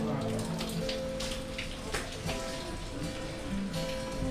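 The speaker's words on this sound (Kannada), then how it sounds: "ಇವತ್ತಂತೂ ಜೋರಾಗಿ ಮಳೆ ಬೀಳ್ತಾ ಇದೆ" Steady rain patters down on a surface nearby, a continuous hiss broken by scattered drips, with faint indistinct voices underneath.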